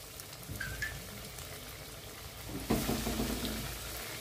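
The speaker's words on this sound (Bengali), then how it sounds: "আমার তেল গরম হয়ে গেছে, আমি একটা একটা করে কাটলেটগুলো তেলেতে ছেড়ে দেব" Chicken cutlets go one by one into hot oil. A soft bubbling runs under a louder burst of sizzle near the end as a cutlet drops in. The sound is close, and no one speaks.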